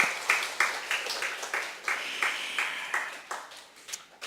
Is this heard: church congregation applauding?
yes